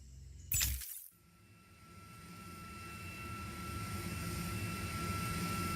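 An aircraft in Just Cause 4 arrives after a short sharp burst, then a steady engine drone builds gradually and grows louder as the plane flies in.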